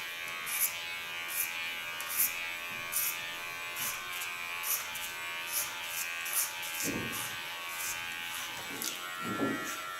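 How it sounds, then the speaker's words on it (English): An electric hair clipper buzzes steadily up close while cutting through thick hair, with regular soft surges each time the blades bite into the hair. "You can hear that thick hair is getting between my blades."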